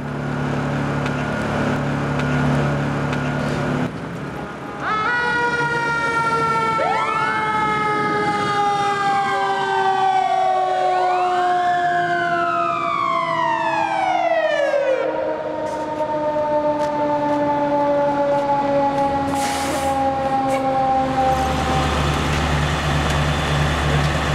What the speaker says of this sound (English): we'll come in with an ambulance and a fire engine